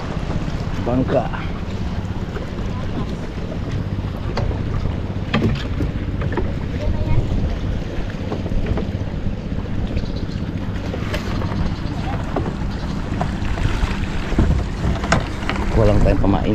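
A small outrigger boat (bangka) moves across the water after a typhoon, its engine droning low and steady under wind buffeting the microphone, with splashing water throughout, loud and close.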